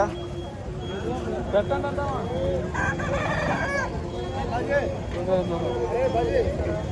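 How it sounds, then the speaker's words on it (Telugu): A fighting rooster crows nearby amid lively chatter and background bustle at a weekly market in Machilipatnam, with clucking and other fowl calls mixed in. "పందెం పుంజ ఇది"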